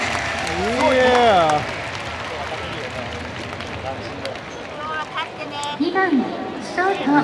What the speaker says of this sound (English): Crowd is lit.